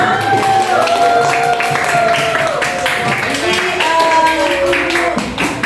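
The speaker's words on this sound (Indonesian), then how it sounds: "Oke, kita tepuk tangan untuk kita semua." A school audience at SMAN 14 Bekasi claps hands together, a steady dense patter of many hands that runs loud and close for several seconds, with voices and music-like tones mixed in.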